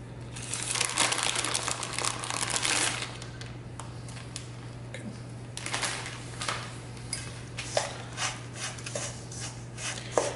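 A bag of shredded cheese crinkles and rustles close up as about four ounces are poured out, loudest in the first few seconds and then settling into softer, scattered rustles and light taps over a steady low hum.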